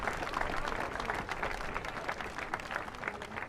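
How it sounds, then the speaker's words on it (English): A crowd claps at an outdoor Black Lives Matter rally in Augusta, Maine, with a steady spread of distant applause that holds at an even level throughout. "So give yourselves a round of applause for being here right now."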